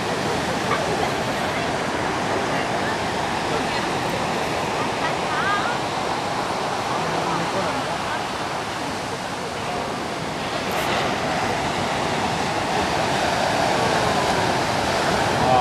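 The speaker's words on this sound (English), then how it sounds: "look at those big waves" Big ocean waves crashing on the shore at Carmel, a continuous broad roar of surf that is loud and steady throughout, with brief faint voices in the background.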